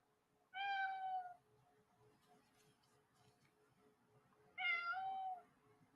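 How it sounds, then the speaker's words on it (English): A cat meows twice, two clear, close calls several seconds apart, with quiet room sound between them. "The cat says hello as well."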